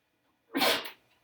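A single sharp sneeze, loud and close, bursting out in a classroom during a math lesson on rotations, then fading quickly into quiet.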